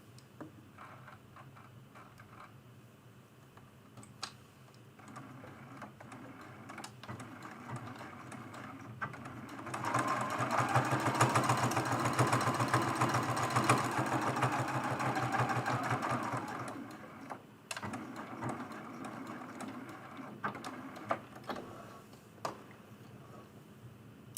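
A sewing machine stitches a straight line beside a seam in dark fabric, a faint ticking hum that swells into a steadier, louder run for several seconds in the middle and then drops back to sparse ticks, with no speech.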